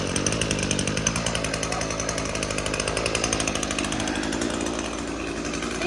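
Gas string trimmer engine pull-started and running, a loud rapid buzzing putter with a fast regular pulse, steady throughout and fading slightly at the end.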